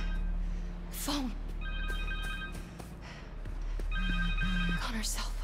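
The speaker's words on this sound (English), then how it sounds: "Phone!" A cell phone rings during Spider-Man 2 gameplay on PS5, a repeating electronic ringtone heard in two bursts with game music and sound effects underneath, and a voice speaks briefly in between.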